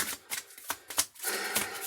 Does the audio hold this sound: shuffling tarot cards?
yes